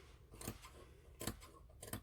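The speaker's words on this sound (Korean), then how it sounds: "가위밥을 주시고" Scissors snip notches into the seam allowance of a fabric collar on a ruffle-collar padded jacket, three short crisp cuts spaced apart, close and quiet, with no talking.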